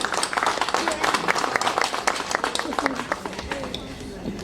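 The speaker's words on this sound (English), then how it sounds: "Please give them a round of applause for that." An audience at a school event applauds newly admitted students with scattered, moderately loud clapping of many hands up close, accompanied by voices in the crowd.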